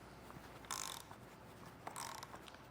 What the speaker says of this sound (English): just coming underneath with your socket and wrench and tightening this down